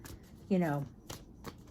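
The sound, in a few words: shuffling tarot cards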